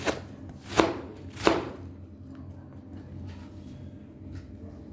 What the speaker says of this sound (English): So cut this way, nicely sliced thin so you can relish it.